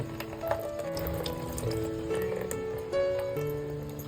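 Water poured off soaked urad dal and fenugreek seeds after two hours of soaking, a steady trickling and splashing flow with faint tonal ringing from the vessel, close and continuous.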